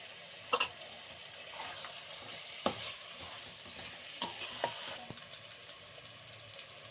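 Tomato frying with chilli powder, garam masala and turmeric in a pan for chicken biryani, giving a steady sizzle with several sharp spoon clatters as the mixture is stirred up close.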